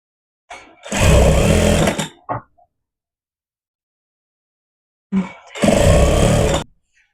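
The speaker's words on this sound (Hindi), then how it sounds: "चारों तरफ ऐसे ही सिल देंगे।" An electric sewing machine stitches the belt of an Afghani salwar in two loud, close bursts of rapid whirring, each lasting about a second and a half, with brief clicks and a quiet pause between them.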